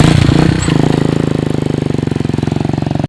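A motorcycle engine idles close by, loud and rough with a rapid, steady chugging pulse that holds evenly throughout before cutting off abruptly at the end.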